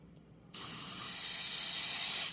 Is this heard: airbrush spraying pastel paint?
yes